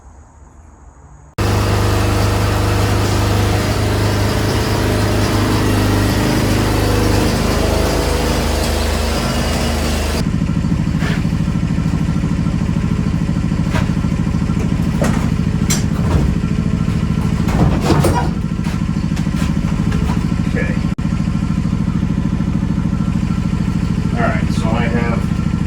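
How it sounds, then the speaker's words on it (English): A John Deere D140 lawn tractor engine idles outdoors after starting, a steady loud rumble with a low constant drone running throughout, while someone talks now and then. "The little tractor warming up out there."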